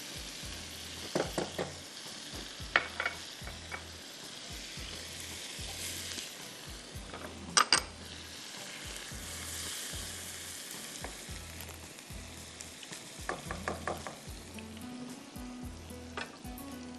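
Chopped garlic and ginger fry gently over low heat, a faint, steady hiss under a low recurring thump, with a few brief clinks of a utensil against the pan scattered through.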